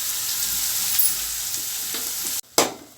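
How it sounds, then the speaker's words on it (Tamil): Onions sauté in a hot pan for a hotel-style egg gravy, giving a steady, loud close sizzle that cuts out briefly near the end, then returns in a sharp burst as they are stirred. "அதுக்குள்ளே வெங்காயம் வதங்கட்டும்."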